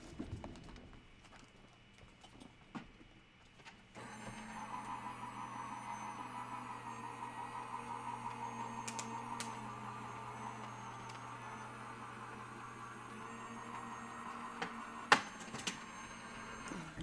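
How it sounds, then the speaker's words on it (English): A die cut machine starts up partway through and runs with a steady, low mechanical hum and whir, fairly quiet and close, with a couple of sharp clicks near the end. "let's go ahead and run this through the die cut machine"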